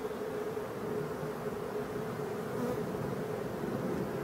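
Black honey bees on a hive frame give a steady, dense buzz that stays even and fairly soft throughout, with no voices.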